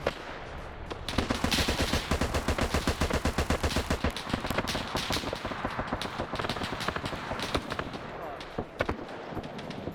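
Sustained rapid machine gun fire in a military video game, loud and dense bursts with overlapping shots for most of the stretch, thinning into scattered reports toward the end.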